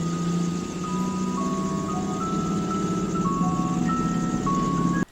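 A tinkling ice cream truck jingle plays a simple stepped melody, steady and fairly close, over a low engine rumble.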